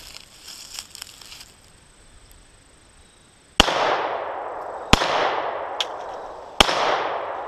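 A Glock 43 9mm pistol fired: after quiet handling noises, three loud, sharp shots ring out about a second or two apart, each trailing off in a reverberant echo, with no talk.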